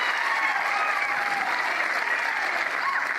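A crowd at a pickleball match between Ben Johns and Tyson McGuffin at the Atlanta Open breaks into sustained applause and cheering, a dense, steady roar of clapping with faint voices mixed in.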